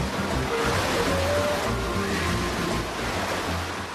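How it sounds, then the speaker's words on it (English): Computer-generated surfable waves in the Ocean Dome indoor wave pool wash steadily as a broad rushing surf, loud and continuous with a faint tonal whine, no voices. "A computer-controlled system produces cookie-cutter waves big enough to surf"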